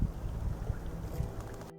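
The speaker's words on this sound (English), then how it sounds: "It's a bit windy" Wind by Lake Rotoiti in Nelson Lakes National Park buffets the microphone with a close, steady rumble. It lasts under two seconds and stops abruptly.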